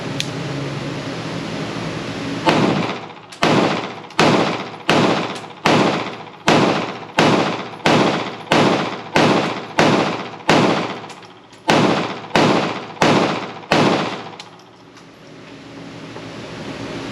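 A Bul Armory SAS Ultralight pistol fires a string of about fifteen sharp, evenly paced shots outdoors, each crack followed by a short fading echo, then the shooting stops and a low background hum remains.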